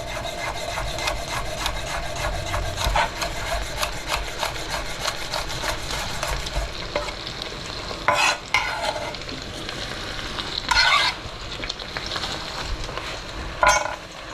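Garlic fries in a pan while being stirred, giving a soft sizzle under repeated scraping strokes of the utensil against the pan. A few louder rasping scrapes stand out near the end. There is no talk.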